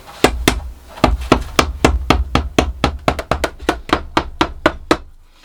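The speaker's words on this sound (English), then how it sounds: "And maybe a gentle bump with a hammer." A hammer taps gently on a fibreglass nosecone mould for a cyclekart, giving about twenty close, sharp knocks at a steady, fairly quick rhythm with nothing else heard.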